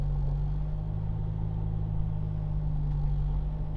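A manual-transmission car's engine hums low and steady as it eases into motion in a parking lot, a constant rumble with no talking.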